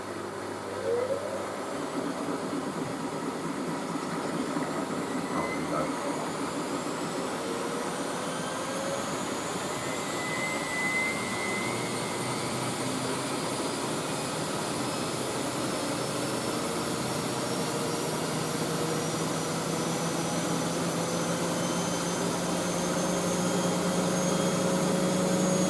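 A Miele W562 Prestige Plus 6 washing machine runs a 95°C cottons whites cycle and accelerates into spin, giving a steady whooshing roar with faint whines rising in pitch, continuous and moderately loud.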